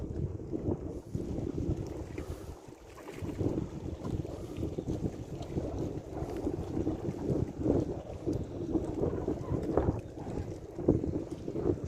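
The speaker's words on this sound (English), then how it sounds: "Just let the wind do the work for me." Steady outdoor wind buffeting a microphone beside the water during bait fishing, a continuous low rumbling gusty roar with no clear speech.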